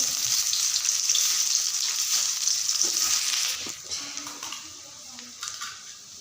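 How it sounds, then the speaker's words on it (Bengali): Chopped onion frying in oil with black cumin, a bright close sizzle that holds steady for a few seconds, then thins out into quieter crackles and faint clinks toward the end, with no talking. "পেঁয়াজটা ভাজা হয়ে গেছে এবার দিচ্ছি আদা রসুন বাটা"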